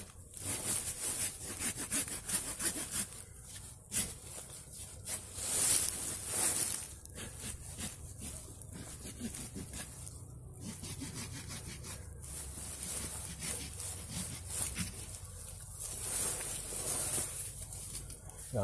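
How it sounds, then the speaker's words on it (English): A hand saw cuts around the bark of a large tree to ringbark it, making close, continuous rhythmic rasping strokes with brief pauses throughout. "So I'm going to use a saw at first."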